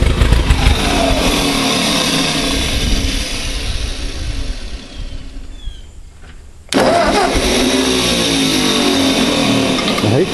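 A Ford 8N tractor engine runs loud and close, drops away briefly, then roars back at a steady rough idle, an unbroken mechanical drone with no talking.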